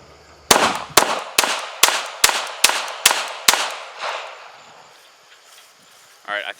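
A Makarov pistol fired rapidly in Call of Duty Black Ops: eight sharp, evenly spaced shots ring out loud and close over about three seconds, each trailing a short echo, then a brief quiet tail.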